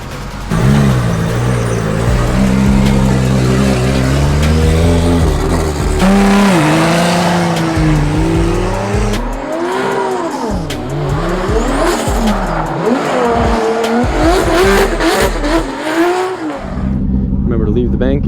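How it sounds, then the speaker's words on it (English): A BMW E36 drift car at a Formula Drift event in Seattle roars with loud revving engine notes rising and falling, alongside tire squeal, sustained and close throughout with no pause. "when I do my lead run, I'm gonna drift the bank, and then after I'll keep drifting"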